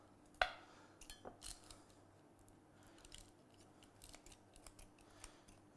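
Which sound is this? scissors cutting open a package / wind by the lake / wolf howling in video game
scissors cutting open a package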